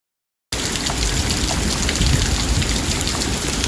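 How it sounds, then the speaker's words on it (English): Rain falls steadily at a house after a brief silence, a dense, loud, even hiss of drops on surfaces with no voices. "Now let's take a look at the last time it rained at my house."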